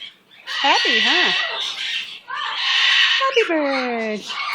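A pet bird squawks in loud, repeated bursts with swooping, warbling calls, close by, while a person talks over it.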